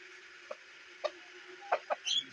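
A few short, separate clucks from a weak rooster over a quiet village background, spaced irregularly and ending in a slightly longer call.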